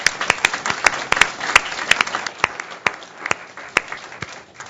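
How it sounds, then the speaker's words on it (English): A modest group claps for FCC staff at an open commission meeting, the individual hand claps distinct and close, forming a loose, uneven patter that gradually thins out. "let me just ask for a round of applause for all of the staff at the FCC who worked so hard"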